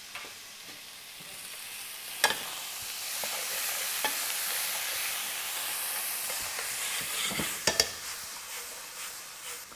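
Drained canned beans frying in a pan with crisping sausage and vegetables, a steady hissing sizzle with sharp spatula clacks and scrapes at intervals, close and fairly loud, without voices.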